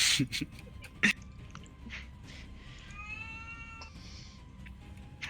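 A cat meows in a drawn-out, wavering cry near the middle, fairly faint against a quiet room background with a few sharp clicks and knocks nearby.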